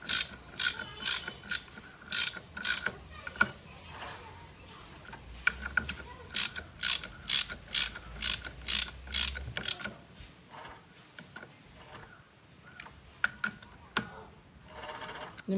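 A ratchet wrench tightening a bolt on a Yamaha FZ V1 motorcycle clutch during a home clutch disc change, a series of crisp clicking bursts close up, tapering to sparse clicks near the end.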